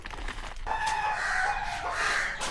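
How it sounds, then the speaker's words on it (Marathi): A rooster lets out a single long, close crow that rises and holds for about two seconds, loud and clear with no talking. "ये वही कोंबडा है जो व्लॉग में चिल्लाता है"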